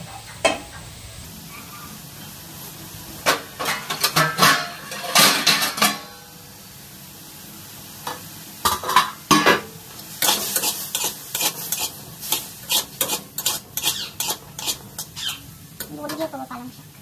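Food fries in a pan while a utensil stirs it in bursts of loud scraping and clattering against the metal, with a soft sizzle underneath and pauses between the rounds of stirring.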